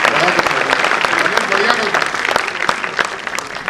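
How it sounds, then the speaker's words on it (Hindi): An audience at a Hindi poetry gathering (kavi sammelan) claps loudly and steadily for the team of poets, a dense burst of hand claps filling the hall with no talking. "मैं चाहता हूं एक बार पूरी टीम के लिए दोबारा ताली बजाएं"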